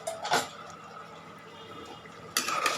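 Metal cooking pot slid from one stove burner to another while cooking pabda fish with ash gourd, two short clanks of metal at the start and end, with a quiet kitchen in between.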